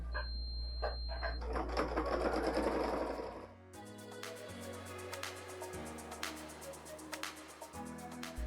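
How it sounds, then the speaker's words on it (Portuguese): A domestic sewing machine stitches a fabric bag in quiet, rapid mechanical bursts. The run starts dense and busy, then settles into steadier, lighter ticking stitches with brief pauses between. "E eu tô costurando com o pé de máquina da doméstica mesmo, tá?"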